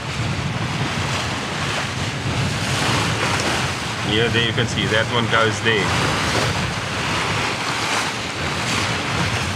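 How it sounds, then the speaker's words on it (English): Ocean swell and crossing waves wash around a Leopard 45 cruising catamaran at sea, a steady rushing roar with wind buffeting the microphone, while someone talks briefly over it. "So there's a swell running like that and a swell running like this. It's causing this diamond kind of like waves."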